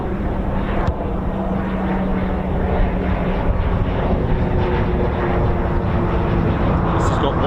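A Grob Prefect training aircraft passes overhead during a flypast rehearsal, its engine drone steady and fairly loud throughout, with people talking over it.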